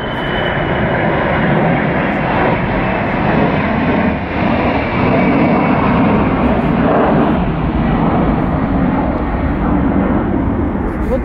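A propeller airplane drones steadily overhead, loud and continuous throughout with no break.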